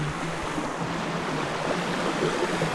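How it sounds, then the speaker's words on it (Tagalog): A clean river near a resort in Matina Pangi, during a time of flooding, runs as a steady broadband wash of flowing water, constant and fairly close with no talk. "So ito yung ilog dito, pwede ito maliguan."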